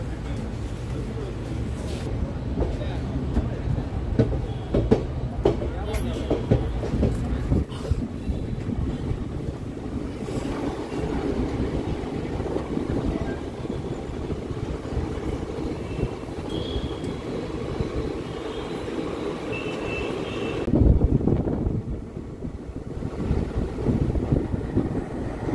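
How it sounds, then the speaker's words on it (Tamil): A Hubballi–Kollam Diwali special express train rolls into crowded Bangarapet station, giving a steady, loud onboard rumble of wheels and carriages mixed with wind buffeting, with a brief louder surge near the end. "இப்போ பங்காரப்பேட் ஸ்டேஷனுக்குள்ளே வந்துட்டு இருக்கோம்."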